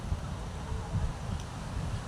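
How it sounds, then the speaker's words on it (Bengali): Steady wind blows at the seashore, a continuous low rumble and whoosh buffeting the microphone with no voices, fairly loud and unbroken. "না হাওয়া দিচ্ছে"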